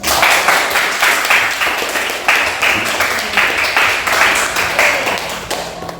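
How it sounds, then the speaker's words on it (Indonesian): A classroom group claps for all the groups, with rhythmic, fairly loud applause that comes in repeated bursts and keeps going steadily for several seconds. "aplaus untuk semua kelompok dulu."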